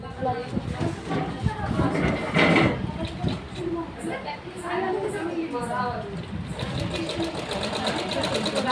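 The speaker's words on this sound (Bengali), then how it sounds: "এই পর্যন্ত আমি সেলাইটা করবো ওপর থেকে ওপর থেকে এটা সেলাই করছি" A sewing machine runs in steady bursts while stitching the side pocket of a pair of half pants (shorts), with continuous mechanical whirring and a voice talking over it.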